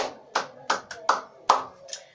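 Several sharp hand claps, about six, land in an uneven rhythm over two seconds, close and fairly loud with no talk over them.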